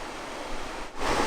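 Spring water rushes out of a hole at the base of a bluff in the Missouri Ozarks, a steady, noisy hiss that is close and constant, swelling slightly near the end.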